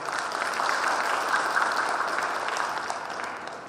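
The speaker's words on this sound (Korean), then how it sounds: "다시 한번 하단의 큰 박수를 부탁드립니다" An audience at a Korean hometown association's president inauguration ceremony applauds with sustained, dense clapping that holds steady for several seconds before easing off slightly.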